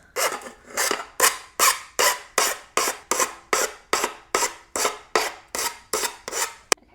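A hand file rasps off excess material on a wall-mounted tire rack build, sixteen or so steady back-and-forth strokes in an even rhythm, close and clear with no talking.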